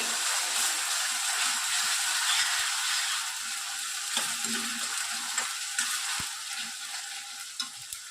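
Ginger garlic paste fries in a pan for green chana masala, a steady hissing sizzle with occasional sharp clicks and scrapes of stirring, close and continuous.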